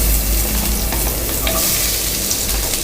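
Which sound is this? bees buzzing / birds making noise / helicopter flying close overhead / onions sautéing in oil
onions sautéing in oil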